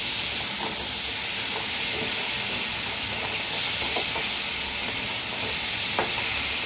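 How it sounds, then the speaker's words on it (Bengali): Mutton stew with a little sugar stirred in a pan, a constant loud sizzle and hiss with scattered soft scraping strokes, no voices. "মানে না দেবার মতনই চিনি দিয়ে আবার একটু নাড়াচাড়া করে নেব।"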